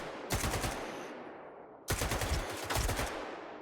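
Two long bursts of rapid automatic gunfire in the shooter game S.T.A.L.K.E.R. 2 crackle loud and dense, separated by a short lull with a fading echo tail.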